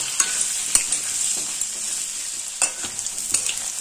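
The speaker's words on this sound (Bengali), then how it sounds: "আলুটাকে বেশ লাল করে ভাজা হয়ে গেছে" Potatoes fry in oil while being stirred, a soft continuous sizzle broken by sharp scraping clacks of a utensil against the pan at irregular intervals.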